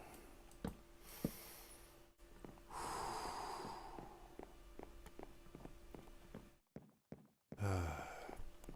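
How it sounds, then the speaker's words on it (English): Slow, deep breaths rise and fall, with soft sighs and snorts in a quiet room, close to the microphone and with no speech. "Deep breathing."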